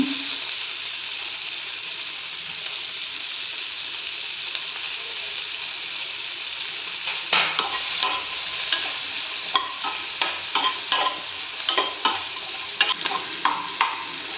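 Onion and capsicum fry in a pan for red sauce pasta, a constant close sizzle that continues alone before stirring adds a rapid series of scraping clicks and taps in the later half.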